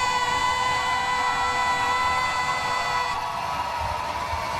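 Roller derby crowd at a Madison bout roars steadily, a dense, sustained wash of cheering and shouting held at full level throughout, with whistle-like tonal lines running over the noise.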